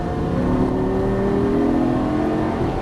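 A 2013 Lamborghini Gallardo accelerates hard on a race track, its engine note a loud, steady, close roar that climbs slowly in pitch for about three seconds with no break.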